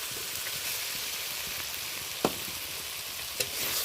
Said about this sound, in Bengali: এর সাথে আমি মাছের মাথাগুলো আরও একটু কষিয়ে নেব